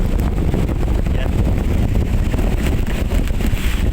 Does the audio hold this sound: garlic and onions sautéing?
no